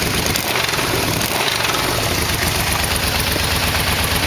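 A Yamaha V-Max motorcycle, warmed up and fitted with new exhaust mufflers, idles with a steady, close, continuous rumble and no break in level.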